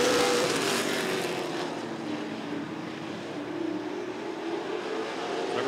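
Late model race cars roar around Rockford Speedway, a dense sustained engine drone with a slowly shifting pitch as the pack runs single file at a distance.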